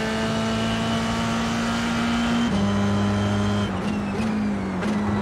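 Race car engine in a sim racing video game holds a loud, steady high-pitched drone, with brief dips and pitch shifts at gear changes toward the end. No talk over it.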